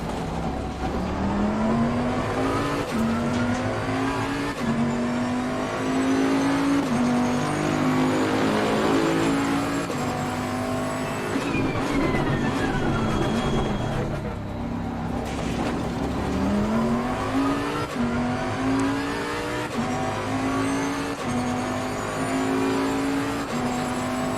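A race car in the Assetto Corsa Competizione racing game drives laps on a track, its engine revving up through the gears in repeated rising sweeps, with steady loud drone and brief lifts for corners, no talk.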